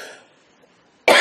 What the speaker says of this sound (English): I caught my breath and now I'm coughing.